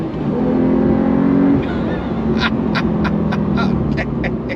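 A 2025 Porsche 911 Carrera T, the 992.2, accelerates hard on throttle. A loud, steady engine roar fills the cabin as the pitch rises and then shifts with gear changes, and sharp ticks sound near the end.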